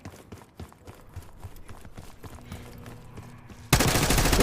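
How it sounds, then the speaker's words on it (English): Rapid bursts of gunfire crackle steadily in Call of Duty: Black Ops 6, then a sudden loud wash of noise takes over near the end. "Hearing gunfire? Yeah, sounds like it's coming from one of the lower floors."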